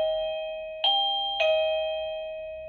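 A wireless doorbell paired with a Wi-Fi video intercom gives two bright electronic ding-dong chimes in quick succession, each tone ringing on and slowly fading, clear and close with no talking.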